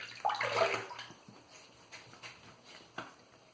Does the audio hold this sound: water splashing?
yes